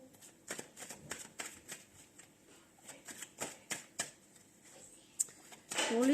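Tarot cards being shuffled by hand, a run of quick crisp riffles and slaps in an uneven rhythm, close and fairly quiet, with a brief voice near the end.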